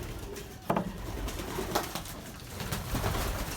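Belgian racing pigeons coo softly in a loft under constant background noise, with a few sharp knocks and clatters scattered through.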